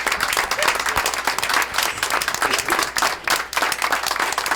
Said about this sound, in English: we have to start off with giving a big round of applause for all the strong women who make this world a better place